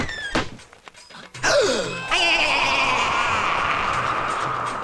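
A house door is opened with a couple of soft thunks, followed by a sudden swell of steady, broad outdoor noise that continues to the end.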